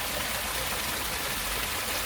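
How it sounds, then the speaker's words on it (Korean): After overnight rain, a mountain valley stream rushes in a dense, steady wash of flowing water, close and continuous with no pauses or voices. "지금 밤사이에 비가 온 관계로 계곡의 물소리가 아주"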